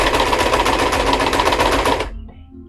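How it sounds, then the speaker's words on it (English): A serger (overlock sewing machine) stitching fabric runs as a loud, rapid whirring clatter for about two seconds, then stops abruptly, leaving near silence. "My serger is so much louder than my sewing machine."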